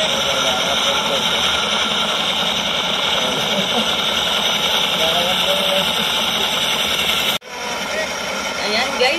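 A helicopter lifting the large globe at the Mall of Asia, a steady loud rotor and engine drone that continues without pause before a brief cut and resumes slightly quieter.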